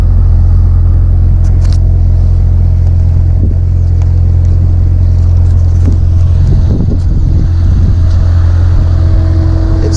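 The cooling fan of a 2017 Corvette Z06 roars loudly and steadily with a deep, constant drone, heard close up and alone.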